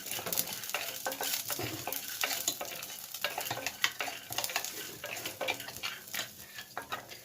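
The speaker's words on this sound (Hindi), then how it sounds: "इसको थोड़ा पहले भून लेते हैं मूंगफली को, उसके बाद बाकी का हम सामान डालेंगे इसमें" Peanuts roast in a pan while a utensil stirs them, giving a dry rattling, scraping clatter in quick uneven bursts over a soft sizzle. The sound is close and fairly quiet, with no voices.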